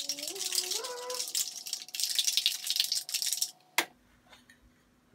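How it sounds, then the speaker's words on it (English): A cocktail shaker packed with ice cubes and fresh strawberries for a mojito rattles hard in a fast, loud continuous burst for several seconds, then stops with a sharp knock, leaving quiet. "we're going to shake the absolute hell out of this."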